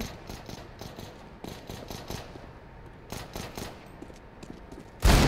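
Bursts of rapid gunfire crackle in repeated volleys in the video game CS:GO, some close and some farther off, ending in a sudden loud blast.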